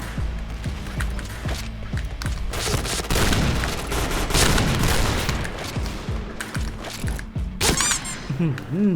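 Sniper rifle shots in the online shooter Point Blank, with a CheyTac M200, come through as sharp bangs amid dense, continuous game noise of gunfire, clanking mechanisms and effects, loud throughout with no speech.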